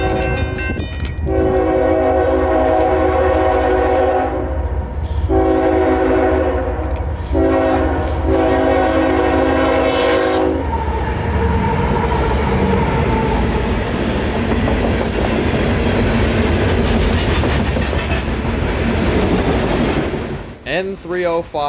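A CSX coal train on the W&A railroad sounds its horn in long, loud blasts as it approaches, then a steady rumble and rolling clatter of cars passes close by for a long stretch, with a voice heard faintly over it.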